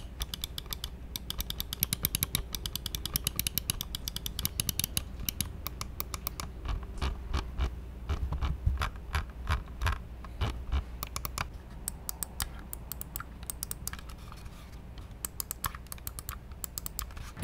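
Button clicks from a Razer Viper Ultimate wireless gaming mouse, recorded close to the mic: rapid, sharp clicking in dense bursts that speed up and slow down, with no talking.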